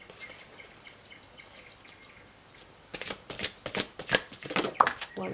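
Tarot cards are shuffled close by after a quiet stretch of faint room noise, giving a quick run of crisp riffling bursts that ends in a snap.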